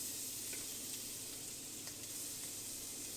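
Garlic sizzles in melted butter in a pan, a steady soft hiss of frying close by, with faint crackles and no voices.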